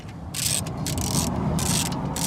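A ratchet loosens the oil reservoir bracket in the engine bay of a 2018 Subaru STI, giving several bursts of quick clicking strokes in steady rhythm, close up with no talking.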